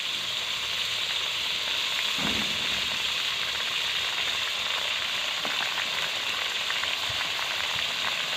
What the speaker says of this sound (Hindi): टमाटर और स्प्रिंग अनियन को भी डाला।